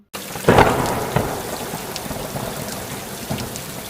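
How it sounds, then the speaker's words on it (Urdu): Heavy rain pours down in an animated bedtime story about birds, with a loud thunderclap near the start and a dense rumbling downpour continuing steadily after it. "ایک دن خوب بارش ہوئی"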